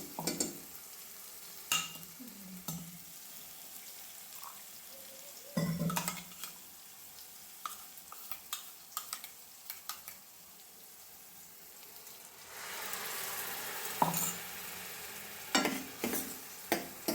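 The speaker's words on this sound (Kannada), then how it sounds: "ಹಾಕಿದ ಮೇಲೆ ಸ್ವಲ್ಪ ಹೊತ್ತು ಫ್ರೈ ಮಾಡಬೇಕು." A ground spice mixture fries in a pan for egg curry, with a soft steady sizzle broken by scattered utensil clinks and stirring scrapes that grow louder toward the end.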